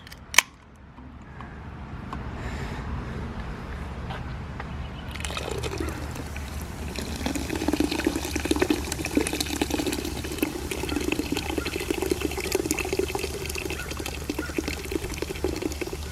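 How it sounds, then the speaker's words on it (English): Canned beer poured into a cooking pot already holding potatoes for a tri-tip and homemade barbecue sauce recipe, a steady close liquid splash and slosh running continuously after a brief quiet start. "let's put in our can of beer."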